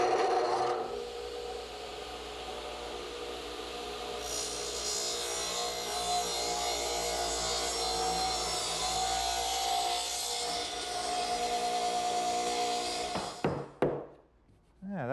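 A table saw rips through a wooden piece held with its angled side against the rip fence, giving a loud, steady grinding whine for about twelve seconds before the cut ends and the blade noise drops away with a light knock.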